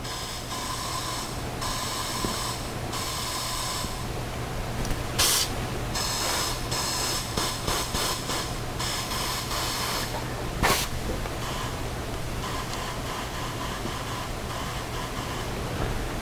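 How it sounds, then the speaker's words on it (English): Compressed air escapes from a leak in a homemade manual 3D metal printer, making a steady close hiss with a low hum beneath it and a few brief sharper bursts. "And we do hear air, so we have a breach somewhere."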